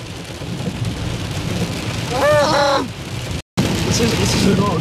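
Heavy rain pounds on a road during a storm while driving, a dense steady hiss heard from inside the car, with a voice speaking briefly partway through.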